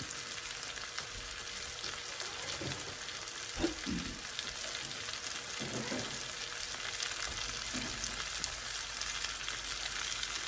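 Hamburger steak patties fry in a large skillet with a dense, continuous hiss and crackle, moderately loud and close, broken by a few faint thumps and shuffles, with no talking.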